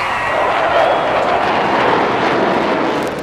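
A Rafale fighter jet flies over the Chennai air show, a loud, steady jet roar that sustains for a few seconds without fading, with no voices.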